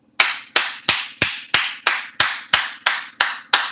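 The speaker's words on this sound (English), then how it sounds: "You know why I'm clapping?" A preacher clapping his hands in a slow, steady rhythm, about eleven sharp, loud claps spaced roughly a third of a second apart, each with a short ringing decay, over a low constant hum and no speech.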